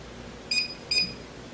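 Kitchen timer being set while seasoning cast iron pans, two short high electronic beeps in quick succession, clear over a quiet room.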